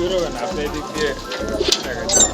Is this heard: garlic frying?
no